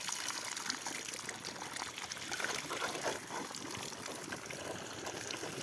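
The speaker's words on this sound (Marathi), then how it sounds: "इथं थोडं लिकेज आहे बघा" Water escapes steadily from a leaking irrigation pipe in a sugarcane field, a continuous hissing, splashing trickle that stays close and even throughout with no pauses.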